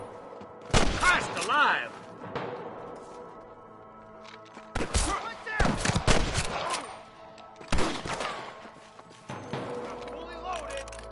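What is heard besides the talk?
gunfire in the video game Red Dead Redemption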